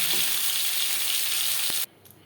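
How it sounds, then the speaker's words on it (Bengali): Tilapia fish fries in hot oil with a loud, steady, close sizzle that cuts off abruptly near the end, leaving near silence. "পরের মাছ একইভাবে ভেজে নেব"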